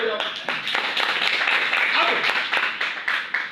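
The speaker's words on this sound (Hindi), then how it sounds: "ताली बजाओ।" Audience clapping at an Indian network-marketing meeting, a crowd of hands giving dense steady applause with some irregular louder claps, close and continuous for a few seconds.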